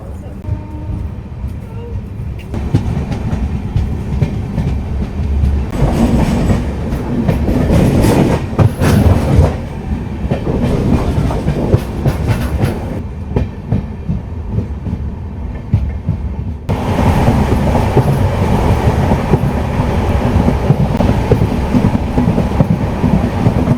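Salem Superfast LHB passenger train rolling slowly into Attur station, a continuous rumble of wheels with rhythmic clatter and occasional squeals from the track, close and steady, with someone talking over it throughout.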